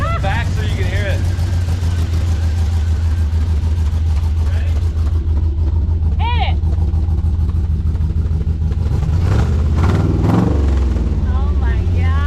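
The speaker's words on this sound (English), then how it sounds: "Listen to that exhaust though. I like the sound of it." An LS-swapped Jeep engine revs through its loud exhaust, with a steady low rumble, a few throttle blips and a rising rev near the end, recorded close by. People talk over it briefly.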